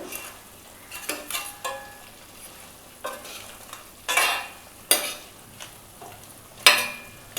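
Crab white kurma being stirred in a frying pan, the spoon scraping and clinking against the metal in irregular strokes over a soft sizzle, close and clear with no voices.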